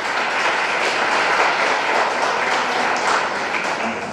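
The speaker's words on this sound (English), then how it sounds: "A big clap for yourself at last." Dense, continuous applause from an audience of students at a polytechnic ceremony, a steady wash of many hands clapping at even loudness throughout without a break.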